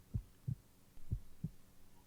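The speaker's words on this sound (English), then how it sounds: "is that your heartbeat? It's really fast." A fast heartbeat sound effect in an ASMR roleplay, with soft low thumps in quick pairs, about four beats in two seconds, close and quiet over a faint hum.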